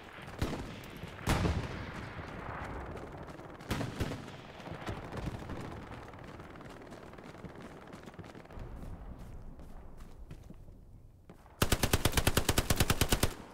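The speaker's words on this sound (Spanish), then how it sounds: "Tengo ametralladora fija por allí." Fixed machine gun fire in the WWII shooter Hell Let Loose, with scattered distant gunshots and bursts across a noisy battlefield, then a loud, rapid sustained burst of automatic fire near the end.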